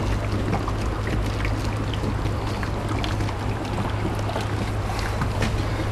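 HHO gas from an electrolysis cell in a 2006 Ram 1500 setup bubbles through a water bubbler, a steady, dense, close rush of fizzing and gurgling that never lets up, with no talk.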